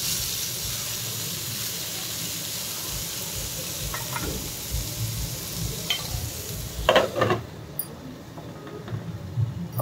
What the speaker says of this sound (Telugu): టమాటో కూడా వేసేసానండి. ఇప్పుడు ఒకసారి బాగా కలిపి